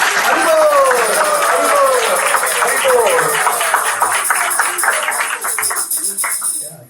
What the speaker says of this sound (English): So big round of applause to Upendra Prabhu and Bhargavi Mataji.